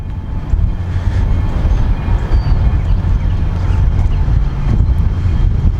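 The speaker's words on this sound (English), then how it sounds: "I hear a train out in the background" A train rumbles past a train depot with a loud, steady low roar and rattle of wheels on track, filling the whole stretch.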